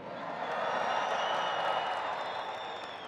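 Fans at the All-American Bowl in the Alamodome cheer for the West team, a broad, continuous stadium roar with whoops and scattered clapping, steady and full throughout.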